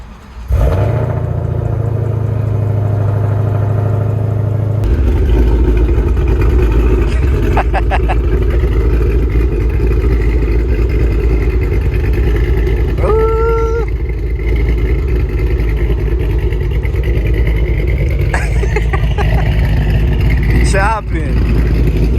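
Ford GT500 of about 1,000-plus horsepower making a hard pull down a street: a loud, sustained engine roar that steps up through the gears, with brief tonal chirps and voices speaking over it.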